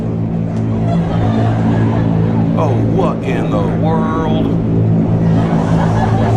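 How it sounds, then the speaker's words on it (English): A loud engine drones steadily throughout, rising and falling as if passing close, with someone speaking over it. "I'm hearing some engine noise."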